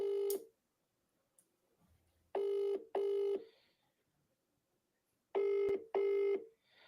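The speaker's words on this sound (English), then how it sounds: "Let me just see if I can ring him quick here." Telephone ringback tone on an outgoing call, two pairs of short buzzing rings with silent gaps between them, clear and fairly close, no voices.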